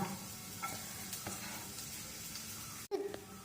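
Onions and garlic frying in oil in a pan for pasta, a faint continuous sizzle with occasional stirring clicks and a sharp clatter near the end, close but quiet.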